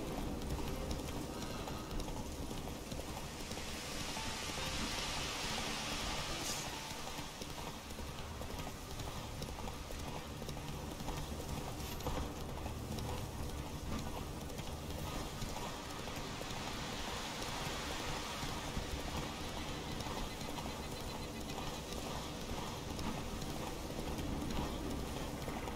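Horse hooves clip-clop steadily in The Witcher 3, a continuous rhythmic trot running the whole time under a dense bed of game ambience and rain-like noise.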